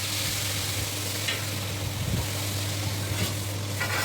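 Lentils and asafoetida frying in hot oil in a pan, a continuous close sizzle with occasional stirring scrapes, no voices.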